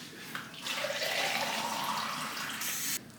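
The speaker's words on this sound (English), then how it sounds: "Okay, so now we're going to add some water." Water poured into a bowl for sourdough bread dough, a close, moderately quiet gushing stream lasting a few seconds before stopping abruptly.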